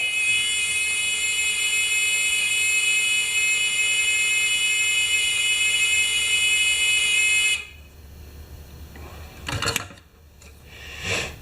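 A Discovery metal detector pinpointer sounds a continuous high-pitched electronic beep steadily for several seconds, then cuts off abruptly, followed by a few handling clunks.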